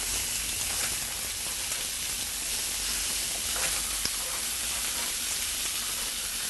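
Browned pork pieces frying with thyme in a pan after being turned, a dense, even crackling sizzle that holds close and constant with faint pops.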